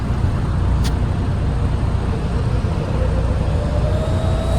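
An Arrma Quake RC car runs at full throttle during a speed test, a steady loud motor whine and rushing wind noise holding constant throughout, with a rising pitch sweeping in toward the end.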